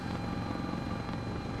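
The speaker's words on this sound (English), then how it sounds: "So what's happening now is the helicopter is decelerating to" Sikorsky S-76 helicopter decelerating in Microsoft Flight Simulator, a steady close rotor and turbine drone at a constant level.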